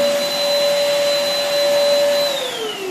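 A vacuum cleaner runs steadily with a smooth motor whine and airy rush, loud and close, its pitch dropping slightly near the end as it slows, with no talking.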